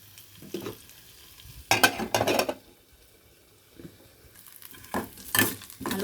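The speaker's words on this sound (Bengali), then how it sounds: "আলুটা আমার ভালো করে ভাজা হয়ে গেছে পেঁয়াজের সঙ্গে" Potatoes and onions fry in a pan, a low sizzle underneath with bursts of scraping and stirring from a utensil against the pan, intermittent and close, with no talk.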